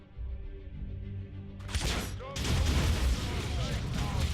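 Gunfire in the Warhammer 40,000 video game Dawn of War 2: Chaos Rising, with heavy, dense bursts of shots and booming impacts building into a loud continuous battle over a low rumble.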